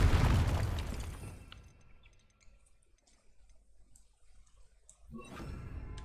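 A Confringo blasting spell goes off in Hogwarts Legacy with a loud, deep explosive boom at the start that decays over about two seconds, followed by quiet ambience and a second burst near the end.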